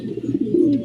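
A racing pigeon coos steadily on arrival at its loft after a 222 km race from Diadi, Nueva Vizcaya, a low throaty warble that swells toward the end, close and alone.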